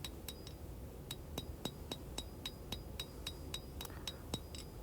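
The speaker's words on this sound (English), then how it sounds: "I'm using that cross peen to hit the steel in the center and spread it out and make it wider" Cross peen hammer blows ring out on hot steel while forging a stick tang blade, roughly fifteen sharp metallic clinks in a steady rhythm over a low background rumble, close and fairly loud.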